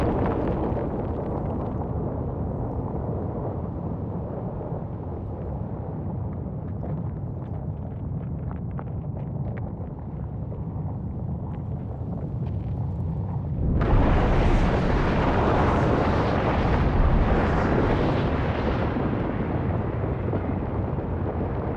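A volcanic eruption: a deep, continuous roar rumbles on, then a louder, harsher explosive blast surges in and keeps roaring, with wind buffeting the microphone.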